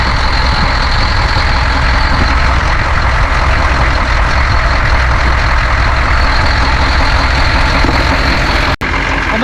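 A 6.2 diesel truck engine with Banks turbo and blow-by runs steadily at idle, a loud continuous rumble with a constant hiss that holds throughout, then cuts out abruptly with a brief dropout near the end.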